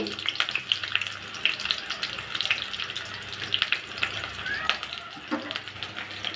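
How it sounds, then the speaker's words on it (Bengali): Chopped onion and sliced green chili crackle in hot oil in a wok, a busy continuous sizzle with frequent pops and spatters and a few utensil scrapes, close and fairly loud. "তেলটা গরম হলে দিয়ে দিব পেঁয়াজ কুচি কাঁচামরিচ ফালি"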